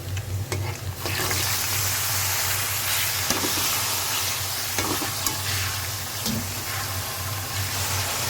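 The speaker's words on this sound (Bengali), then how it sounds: "এখন পেঁয়াজ মরিচ দিয়ে দিলাম" Onion and chili stir-frying in hot oil for noodles, a steady loud sizzle that runs on without a break, with a few soft stirring scrapes and a low hum underneath.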